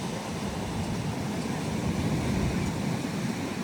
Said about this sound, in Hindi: वो लहरें पास आ रही हैं इधर